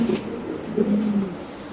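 Large pigeons at a pigeon farm give a few soft, low coos close by, one drawn-out call in the middle over faint background noise, with no talking.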